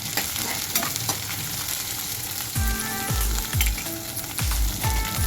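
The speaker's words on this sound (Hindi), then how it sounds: "तड़के दे दिए हैं।" Spices tempering in hot oil for a tadka alongside ginger, garlic and chilli, a steady loud sizzle with repeated stirring scrapes and clinks of a spoon against the pan, no talking.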